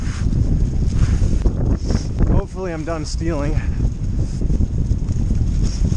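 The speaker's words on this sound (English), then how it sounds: "It is windy." Strong, steady wind roars across a wooded trail covered in leaves, a loud, constant rumble with microphone buffeting that lasts throughout while someone speaks briefly in the middle.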